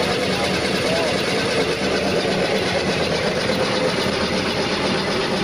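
A smashed Mazda with a rubbing pulley cranks and churns steadily under a dense, continuous mechanical roar, loud and close, while people talk over it.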